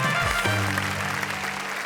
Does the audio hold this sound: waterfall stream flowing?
no